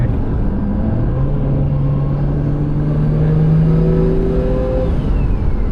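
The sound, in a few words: turbocharged car engine sucking air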